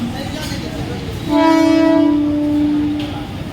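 A Mumbai local commuter train horn blares a long, loud, steady tone for about two seconds over rumbling station platform noise and crowd murmur.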